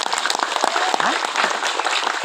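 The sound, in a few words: audience applause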